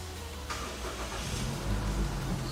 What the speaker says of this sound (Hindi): अब हम गाड़ी को करते हैं स्टार्ट।